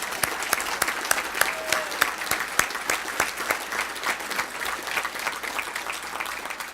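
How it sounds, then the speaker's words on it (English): Sustained applause from a banquet audience at an awards dinner, steady dense clapping with sharp individual claps standing out, continuing evenly for several seconds with no talk over it. "he deserves the biggest round of applause of all tonight."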